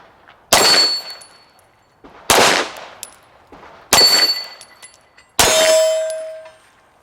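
Four loud, separate pistol shots fired one-handed with the non-dominant hand at targets on a range, each a sharp crack with metallic ringing and a decaying tail, spaced about a second and a half apart.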